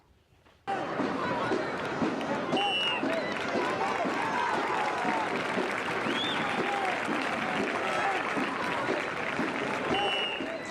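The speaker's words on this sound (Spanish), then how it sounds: "Con aplausos y expresiones de asombro, miles de personas admiraron el desfile cívico-militar de este 16 de septiembre" Thousands of spectators at a 16 September civic-military parade applaud and cheer, a sustained loud roar of clapping and whistles mixed with scattered shouts and crowd chatter after a brief quiet start.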